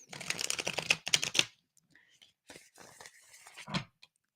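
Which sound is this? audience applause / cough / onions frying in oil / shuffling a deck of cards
shuffling a deck of cards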